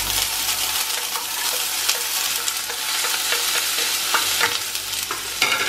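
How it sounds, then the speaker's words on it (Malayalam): Ginger, garlic and onion sizzle steadily in a hot pan while a spoon stirs and scrapes through them, with brief clinks against the pan rising above the constant frying hiss. "ഇനി നന്നായിട്ട് വഴച്ചാ ഈ പാചകത്തിൽ ഇളക്കലാണ് എനിക്ക് ഭയങ്കര ടഫായിട്ട് തോന്നുന്നത്"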